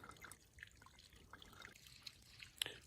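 Water trickling and dripping as it is filtered on a Pacific Crest Trail hike, quiet and close, with small irregular drips over a soft steady flow.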